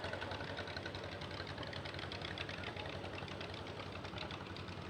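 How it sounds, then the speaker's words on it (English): Farmall and IH tractor engines idle steadily in a festival parade, a continuous mid-pitched rumble with a faint knocking pulse, moderately near and without talk. "Farmalls and IHs"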